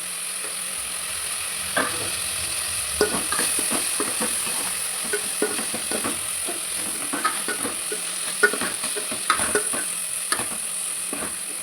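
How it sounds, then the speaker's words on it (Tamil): Tomatoes sautéing in a pan for brinjal tamarind curry make a continuous soft sizzle and hiss, broken by frequent scraping stirs and small clinks from the spoon, all close and moderate in level. "தக்காளி இந்த மாதிரி நல்லா வதங்கிடணும்."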